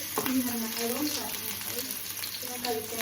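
Green chillies sizzling in a hot pan, a steady frying hiss with occasional stirring scrapes, while a person talks over it.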